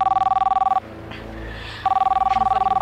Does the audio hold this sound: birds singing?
no